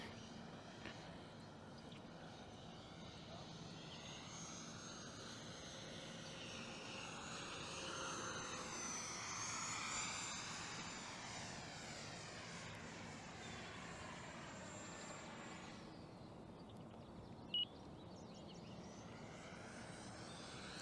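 A 64mm FMS electric ducted-fan F-16 model jet makes a full-throttle pass, its steady high-pitched whine swelling as it approaches and then sweeping down in pitch as it passes and recedes, with a sharp click near the end.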